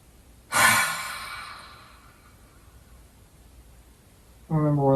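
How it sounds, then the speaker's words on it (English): A long, exaggerated open-mouthed 'ha' exhale during a gentle yoga breathing exercise, loud at the start and trailing off into a quiet room, followed by a voice speaking at the end. "really exaggerating a long sort of ha sound on the exhale"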